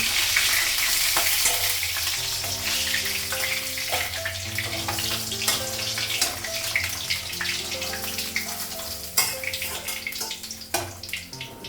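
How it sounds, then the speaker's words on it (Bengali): Fish sizzling and frying in a pan in a Bengali home kitchen, a steady loud crackle with scattered pops and occasional clinks of a utensil against the pan, close up and with no voices. "মাছটা এক সাইডে ভাজা হয়ে গেছে।"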